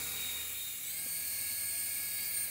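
A small remote-controlled toy helicopter drone whines steadily as it climbs, a thin, high rotor and motor buzz that holds level and close throughout, with no talking over it.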